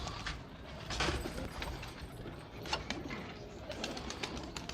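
Pigeons kept as breeding pairs in a cage, cooing nearby in soft repeated calls, with light rustles and taps between.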